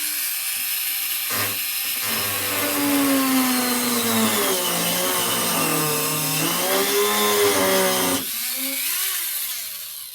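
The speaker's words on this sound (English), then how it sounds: "we're just going to use the Dremel" A Dremel rotary tool cuts a canopy rail slot on a Ziroli AT-6 Texan model airplane, giving a loud, steady high-pitched whine that wavers in pitch as the bit bites, spinning up after a short start and winding down near the end.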